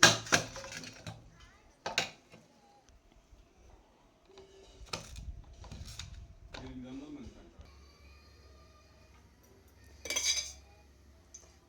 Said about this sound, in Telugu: ఉల్లిపాయ టమాటా కోసి మ్యాగీ చేయాలంటండి.